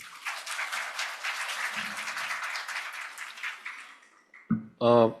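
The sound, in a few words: symposium audience applause welcoming speaker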